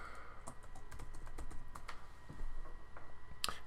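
Close, steady taps on a computer keyboard as a password is typed in, a quick run of light clicks over faint background hum, with one sharper keystroke near the end.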